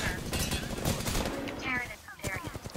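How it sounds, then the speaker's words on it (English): Grenade explosions and gunfire in an Apex Legends battle, loud cracking bursts packed together with layered game effects and voice chatter mixed in. "I'm just throwing grenades. I threw grenades."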